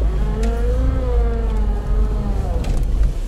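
A Lada Niva 4x4 engine drones steadily as the car drives, a continuous close, loud hum with a rising and falling pitch and no speech.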